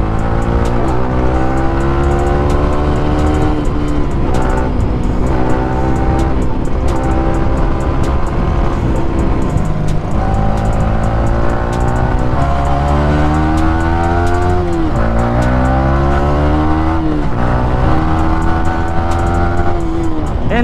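A Yamaha R15 V3 motorcycle engine revs hard and continuously at around 8,000 RPM, pitch rising and falling through gear changes, close up with no talk.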